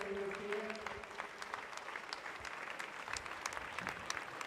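Spectators at a county qualifier heat applaud a competitor with sustained, scattered clapping and some faint cheering, steady throughout and heard from a middle distance.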